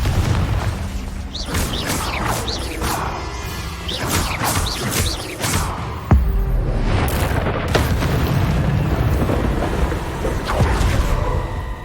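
Confringo spell blasts in Hogwarts Legacy, with booming explosions and crackling bursts that repeat through a busy fight, several sharp hits standing out over a steady rumbling din.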